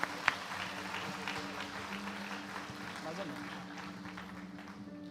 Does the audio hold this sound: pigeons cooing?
no